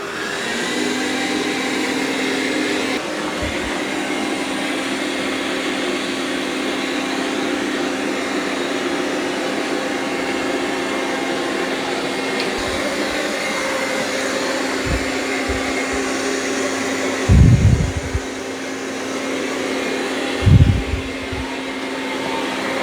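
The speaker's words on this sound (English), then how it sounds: "Now it's going to go vacuum that carpet." A Dreame robot vacuum (X30 or X40 model) runs steadily over carpet, its motor whirring loud and constant throughout with a low hum, and a few brief bumps or thuds near the end.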